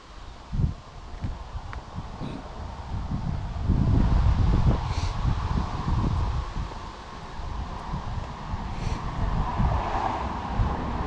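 Breeze blowing outdoors in the Elan Valley on a sunny, chilly day, a steady broadband wind rush with low buffeting gusts against the microphone that swell near the middle, with no talk.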